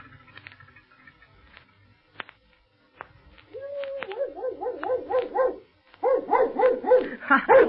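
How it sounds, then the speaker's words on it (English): A dog barks and whimpers in an old radio drama, first a few scattered yips, then rapid rhythmic barking that grows louder and more continuous toward the end, fairly close. "Oh, this is sure a swell dog of yours, Dawa"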